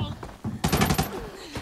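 Gunshots in a shooting video game: a quick, loud burst of several rapid shots in the middle, with quieter game noise before and after.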